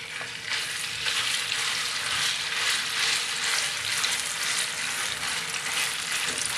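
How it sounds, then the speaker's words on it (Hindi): Minced meat keema frying in hot oil, a dense, steady close-up sizzle that holds evenly throughout with soft stirring underneath and no talk. "ऑयल में कीमा डालते हैं"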